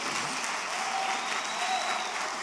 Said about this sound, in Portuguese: Dê um aplauso bem forte ao Messias